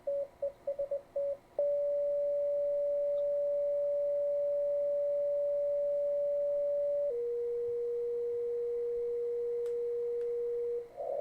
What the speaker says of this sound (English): Sending CW, and they're going to put a carrier right on top of them and then move the carrier off frequency